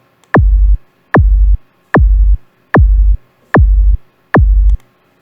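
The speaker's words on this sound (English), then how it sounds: "you have a much higher pitch sweep in the beginning of the kick" Six punchy electronic kick drums made with the 3xOsc synth in FL Studio, at a steady, slow pulse, each opening with a sharp downward pitch sweep into a deep, booming tail.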